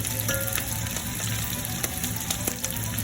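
Homemade calamari frying in very hot oil gives a steady, close, full sizzle with scattered crackles and pops throughout, and no voices.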